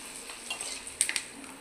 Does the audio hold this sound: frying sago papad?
yes